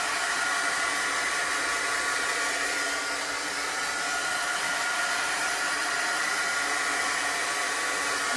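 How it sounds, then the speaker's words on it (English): A hair dryer blows continuously and loudly up close, drying a layer of chalk paste on a rustic wreath transfer craft, a steady airy roar with no pauses. "I'm just drying this layer so I can do the next layer."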